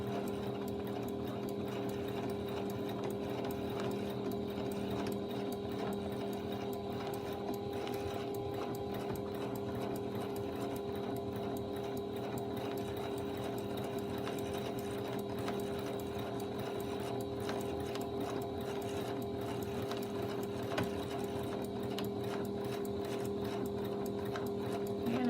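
Sewing machine stitching steadily while free motion quilting with a quilting foot, a fast, even mechanical whir and needle chatter running continuously and close, alone without talk.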